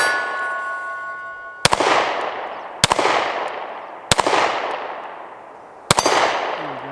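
Four sharp, loud shots from a Taurus G3c pistol on an outdoor range, evenly spaced about a second apart, each ringing out with a long fading tail and a metallic target clang.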